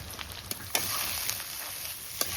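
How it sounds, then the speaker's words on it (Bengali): Eggplant frying in fish oil, a steady close crackling sizzle with a few sharper pops spaced through it, no voices. "মাছের তেলে বেগুন ভাজা হবে।"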